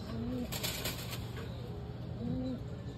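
Racing pigeons flying outdoors, with soft cooing and a flutter of wings in the middle, heard faintly against a constant background hum and no talk.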